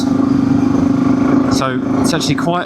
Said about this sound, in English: It's quite loud, but yeah, it's quite a behaved exhaust really.